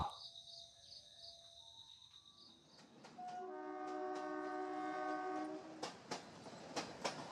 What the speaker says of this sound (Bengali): দ্বিতীয় স্বপ্নাদেশ পাওয়ার পরদিনই ট্রেন ধরে চণ্ডিকা রওনা দেন পুরুলিয়ার উদ্দেশ্যে